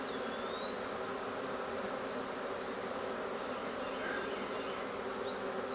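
A rescued honey bee colony from a hollow tree hums with dense, steady buzzing during an open hive inspection, many bees close around with individual bees passing nearby, no talking.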